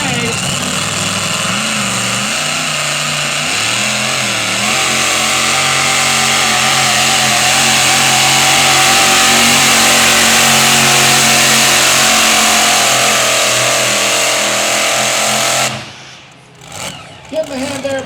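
A super modified 4x4 pickup truck pulls at a truck-pull event, its engine roaring loud and close, revs climbing and holding in a sustained scream before cutting off abruptly near the end.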